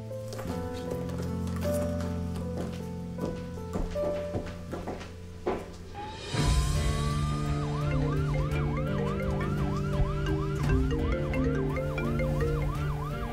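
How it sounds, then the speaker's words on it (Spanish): A wailing ambulance siren in a dubbed drama rises and then cycles in rapid repeated whoops, loud and close, over a steady background of music. "Estoy en una ambulancia, tía Nuran."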